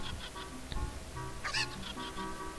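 Chickens, the Cuccos in The Legend of Zelda: Ocarina of Time, give soft, faint clucking and squawking calls in short bursts over quiet game background.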